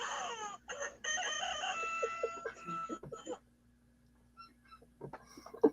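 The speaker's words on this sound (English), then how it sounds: "I think we need a chicken buzz right now." Chicken buzzer sound effect plays loud and close, a run of clucking followed by a rooster crow, then fades to quieter scattered bits near the end.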